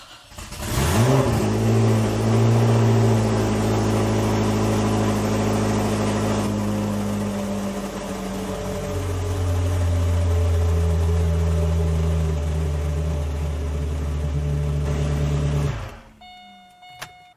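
A Lotus Esprit V8 engine cranks and catches, then idles with a steady, loud rumble for about fifteen seconds before cutting off abruptly.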